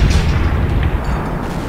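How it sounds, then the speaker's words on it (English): A giant explosion in a video game rumbles loud and continuous, a deep booming roar that fills the whole moment without letting up. "Just a giant explosion."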